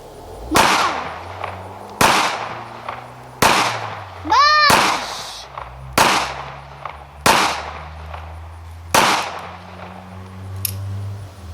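A Kel-Tec P3AT .380 pistol fires seven sharp, loud, close shots, spaced one to two seconds apart, each cracking out and ringing briefly before the next.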